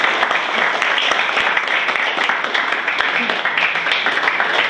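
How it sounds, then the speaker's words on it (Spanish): A class audience breaks into steady, dense applause, loud and close, the clapping continuing evenly for several seconds. "un fuerte aplauso para ustedes"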